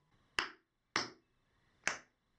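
Tap shoes strike a hard floor in a brush toe heel step, three crisp separate clicks evenly spaced and close, with silence between them.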